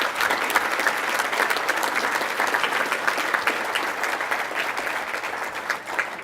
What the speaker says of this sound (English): I think that deserves a round of applause as well